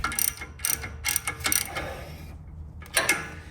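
An 18mm socket on a ratchet works a bolt on a steering drag link, giving quick bursts of close, crisp clicking with brief pauses between strokes.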